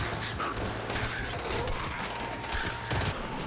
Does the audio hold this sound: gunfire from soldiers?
yes